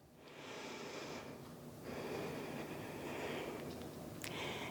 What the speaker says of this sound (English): a cleansing breath